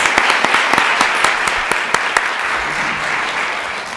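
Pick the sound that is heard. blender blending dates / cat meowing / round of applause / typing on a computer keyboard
round of applause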